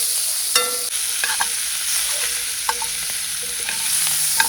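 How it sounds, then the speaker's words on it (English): Saltfish fries in a pan in an open kitchen, a continuous bright hiss of frying with scattered small clinks and scrapes of stirring, close and steady with no voices. "Right, so now we have a saltfish to fry up."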